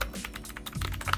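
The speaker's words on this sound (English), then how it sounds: "I actually do like the typing on this keyboard more than I like these ones." Rapid clacking keystrokes on a cheap mechanical keyboard, close and crisp, a fast uneven patter of individual key presses with no talk.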